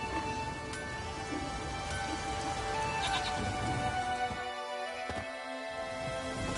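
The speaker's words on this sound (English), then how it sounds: "There's no point standing here in the rain." Steady rain falls in The Witcher 3, a continuous hiss of drops on surfaces, with soft background tones and a few brief knocks near the end, no one talking.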